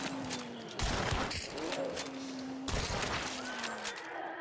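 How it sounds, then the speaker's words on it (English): Gunshots in the video game Hunt: a few sharp, loud blasts with sudden attacks about two seconds apart, each leaving a noisy tail, over steady game background noise and a low hum. "I shoot once and they're dead."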